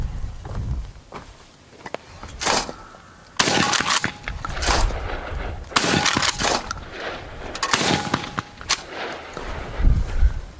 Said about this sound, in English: We'll do some faster shooting.